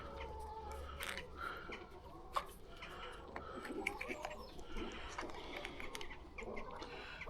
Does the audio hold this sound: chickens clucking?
yes